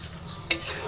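A spatula stirs spices in a frying pan while cooking beresta chicken, a single soft scrape standing out over a faint steady sizzle.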